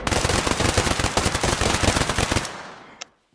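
Rapid automatic gunfire in the VR shooter game Pavlov, a loud close continuous burst of fast rhythmic shots lasting about two and a half seconds, then one quieter final crack before silence.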